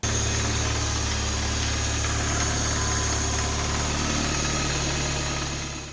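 A VW Golf MK2 engine with an idle problem runs at a steady idle after starting, a continuous loud mechanical drone with a faint ticking rhythm and no talk, fading slightly at the end.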